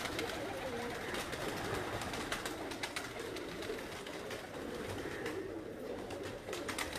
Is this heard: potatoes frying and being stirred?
no